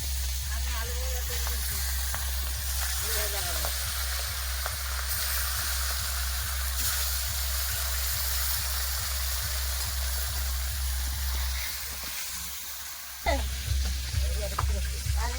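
Silver carp frying in hot oil gives a steady, close sizzle that runs nearly the whole time, with a voice now and then, a brief dip near the end and then renewed spitting.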